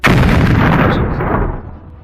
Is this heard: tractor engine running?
no